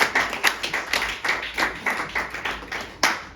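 A church congregation at a Sunday Easter service claps in a quick, fairly regular rhythm, a run of close sharp claps over a faint room murmur.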